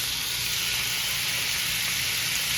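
Beef sizzles steadily in a frying pan as a second batch from a 3.5-pound lot browns for home-canned stew, a continuous close hiss with no talking.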